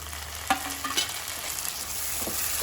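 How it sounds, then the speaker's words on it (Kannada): Chopped tomatoes are tipped into onions frying in a pan for stuffed brinjal curry, giving a couple of soft thuds and a burst of sizzle, then scraping stir strokes over a steady low frying hiss, with no talking. "ಈರುಳ್ಳಿ ಫ್ರೈ ಆಗ್ತಿದ್ದಾಗೆ ಹೆಚ್ಚಿಟ್ಕೊಂಡಿರುವಂತಹ ಟೊಮೆಟೊವನ್ನು ಸೇರಿಸ್ಕೊಳ್ತೇನೆ."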